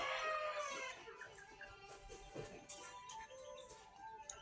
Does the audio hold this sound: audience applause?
no